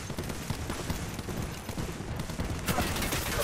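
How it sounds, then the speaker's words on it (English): Fuse's Knuckle Cluster launcher in Apex Legends letting off a rapid string of cluster bursts, dense crackling pops layered over battle noise, loud and continuous with a sharp surge near the end. "Knuckle clusters firing."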